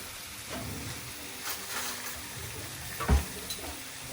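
Chicken stirred in a hot pan with turmeric, a soft steady sizzle of frying with scraping stirs and a sharper clatter near the end, close and quiet with no talking.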